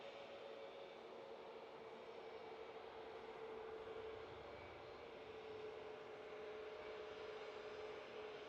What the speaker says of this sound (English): Gulf Air 787-9 Dreamliner now touching down